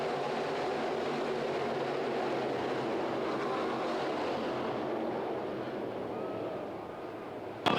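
Race cars roar past together at Volusia Speedway Park dirt track, a dense, continuous wall of engine noise from the pack that fades slightly toward the end, ending with a brief sharp knock.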